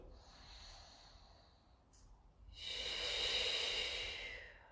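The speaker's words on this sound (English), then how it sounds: "Breathing in." Deep breathing during a Pilates exercise session, a soft inhale followed by a louder, sustained breath of steady airy hiss, close and alone with no talk.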